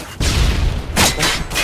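In a first-person shooter game, a stun grenade goes off in a sharp booming burst, followed by several more quick blasts and rumbles in the next second, loud and close, with no talking.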